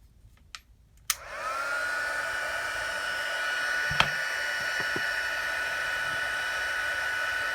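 A heat tool for card making starts with a couple of clicks, then blows a steady, loud, rushing whine that holds evenly for several seconds, with a small tap partway through.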